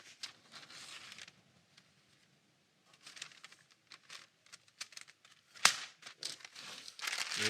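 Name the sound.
wax paper being handled and crinkled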